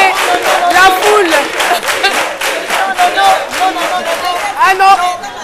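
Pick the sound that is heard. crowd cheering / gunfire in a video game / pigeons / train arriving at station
crowd cheering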